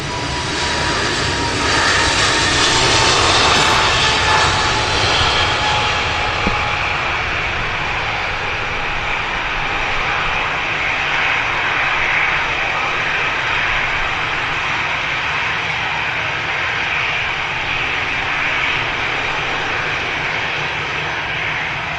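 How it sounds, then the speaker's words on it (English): EgyptAir Airbus A321 jet arriving at Manchester airport from Cairo, a steady loud engine roar that swells slightly early on and then holds as a broad continuous rumble and whine with no talk. "Beautiful Egypt Air A321 coming on in from Cairo."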